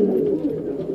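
A Shirazi fancy pigeon gives one soft, low coo, close by and alone, lasting about a second.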